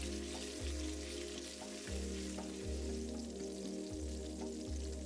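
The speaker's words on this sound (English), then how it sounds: "I will fry the karela for about 3 minutes" Sliced karela (bitter gourd) frying in oil in a pot, a faint steady sizzle and crackle under a recurring low mechanical hum, quiet and without speech.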